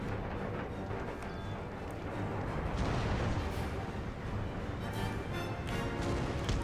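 Howitzer artillery fires in Empire Total War, a dense rumble of booming cannon shots and explosions rolling continuously at a distance, with no talking.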